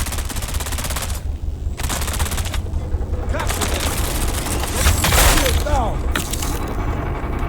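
Enemies shoot at close range in the video game Dune: Awakening, with sustained rapid gunfire crackling in dense bursts throughout and a louder volley near the end.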